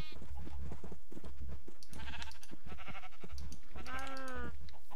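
Repeated bleats from Minecraft sheep, a few short calls ending in one louder, drawn-out bleat, with light clicking and background noise.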